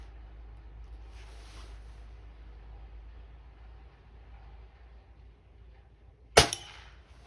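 A 19-year-old Crosman 800X Quest spring air rifle fires once near the end, a single sharp, loud crack with a brief ring-off after several seconds of quiet outdoor background.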